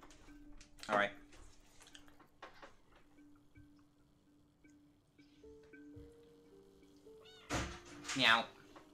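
Cat meows inside the video game Stray, two short rising calls near the start and end, with a steady game hum and occasional soft thumps between them.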